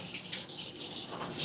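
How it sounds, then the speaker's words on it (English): Tap water running while hands are washed at a kitchen sink, a steady close hissing splash with no talk. "I washed my hands."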